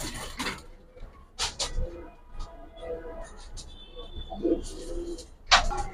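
Silver Giribaz pigeons raised on a rooftop coo softly in a short low burble amid scattered wing flaps, clatter and background noise.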